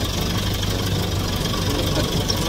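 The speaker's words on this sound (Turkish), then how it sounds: "Her gün traktöre binmiyorum abi." Tractor engine running in a village setting, a steady, loud, low idling chug with knocking vibration that continues evenly throughout.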